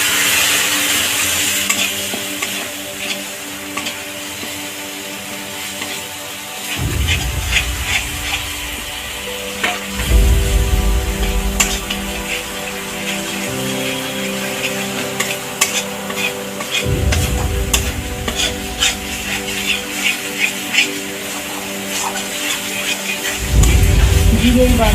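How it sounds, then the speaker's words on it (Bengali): Soya chunk rezala masala is stirred in a pan with milk, giving a close sizzle broken by repeated scraping strokes that come in waves every few seconds, with faint clinks of utensil on pan. "একটু দুধ দিয়ে কষাবো।"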